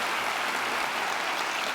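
A church congregation applauding together during a televised worship service, a continuous wash of clapping heard up close with no voices over it.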